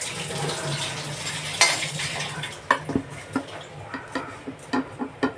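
Chillies and fenugreek heating in a pan for a fish-head curry, with a light sizzle and a run of sharp metal spoon clinks and scrapes against the pan, close and distinct.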